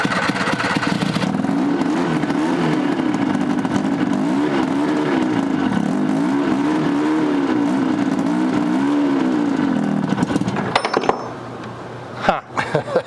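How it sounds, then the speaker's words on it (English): Snowmobile engine fitted in an abandoned Hustler 6x6 amphibious ATV, running loud and close with a rough, wavering idle that rises and falls, then cuts off amid clatter near the end. "It's definitely a snowmobile engine."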